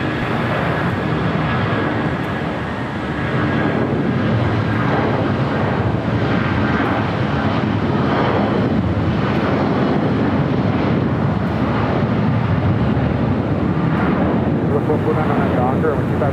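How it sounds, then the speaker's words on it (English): A United Airlines Boeing 757-300 bound for Chicago rolls down runway 25 Right at LAX for takeoff. Its engines give a steady, broad roar that holds at an even level throughout, with radio voices talking over it. "757-300 now rolling down."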